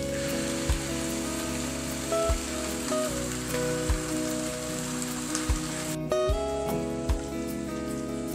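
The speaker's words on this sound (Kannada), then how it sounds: "ಈಗ ಮಿಕ್ಸಿಯಲ್ಲಿ ಕಡೆದಿಟ್ಕೊಂಡ ಕೊಕೊನಟ್ ಮಸಾಲವನ್ನು ಹಾಕೋಣ." Ground coconut masala goes into a hot pan for a lady finger (okra) masala bhaji and sizzles in a steady crackling hiss, with a few soft knocks of a utensil, close and without talk.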